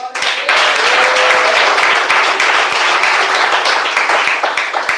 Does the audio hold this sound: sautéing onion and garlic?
no